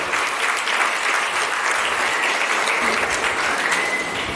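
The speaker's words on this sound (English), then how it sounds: "please let's give Romel a round of applause" Wedding reception guests applaud Romel in a dense, sustained round of clapping that fills the room evenly from start to finish, with no talk over it.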